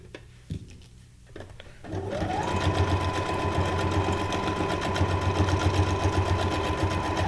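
A sewing machine stitching through paper starts up after a few quiet knocks and then runs steadily with a continuous whirring motor hum and rapid needle chatter, close and fairly loud.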